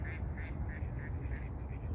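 Mallards on a lake give a string of about seven evenly spaced quacks, moderately close, over a steady wash of outdoor background noise.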